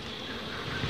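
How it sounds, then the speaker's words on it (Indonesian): Honey bees hum steadily near their wild colony outdoors, a soft, continuous buzzing heard briefly with no talk. "ternyata pas kita mau ini pada datang nih lebahnya"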